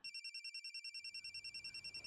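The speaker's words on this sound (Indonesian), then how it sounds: "ada telepon." A telephone rings with a rapid, steady electronic warble of evenly pulsed trills, fairly faint and alone, with faint room noise joining partway through.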